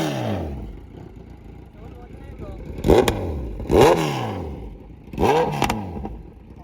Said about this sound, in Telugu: ఐడిలింగ్ అంటే ఫుల్ లౌడ్ ఉంది బైక్.